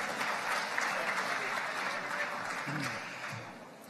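Sustained audience applause at a nature photography award ceremony, a steady wash of clapping from a seated crowd that softens slightly toward the end.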